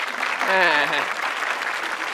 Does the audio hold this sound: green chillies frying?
no